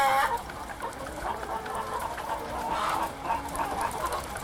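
Laying hens in a crowded commercial egg-laying barn cluck and murmur continuously, several birds overlapping in a busy, restless chorus.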